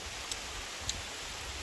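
Steady rain falls outdoors over a cherry guava harvest, a soft continuous hiss of drops with a couple of faint brighter ticks, no voices.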